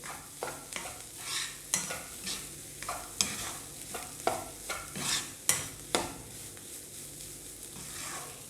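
Egg burji being stirred in a pan, a spatula scraping in a steady series of sharp strokes over a soft background sizzle, close and fairly quiet, no voices.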